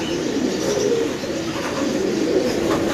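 Spanish pigeons coo close by in soft, low, repeated throaty calls over a steady murmur of background noise, with no voices.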